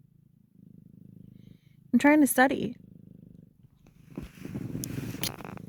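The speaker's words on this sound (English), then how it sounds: "Can you hear how pleased he is with himself? How loud he's purring?" A cat purrs loudly and close in steady rhythmic pulses, briefly drowned out when a person speaks, then a louder rumbling purr with some shuffling follows.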